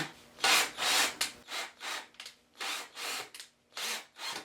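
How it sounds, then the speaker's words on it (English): Repeated short bursts of a drill slowly driving a screw into a wooden chair frame, about eight grinding pulses with brief pauses between, close and fairly loud. "Basically what I'm doing is I'm drilling it in just a bit, very slowly, and then backing it out"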